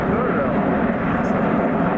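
A formation of aircraft flies past at an air show, a loud continuous engine roar that stays steady and close for the whole stretch.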